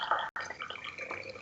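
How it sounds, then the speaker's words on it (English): Liquid pours steadily into a cup in the background, a dripping, splashing trickle with a brief gap, heard somewhat faintly and without speech. "Sounds like someone's pouring a very hearty drink in the background."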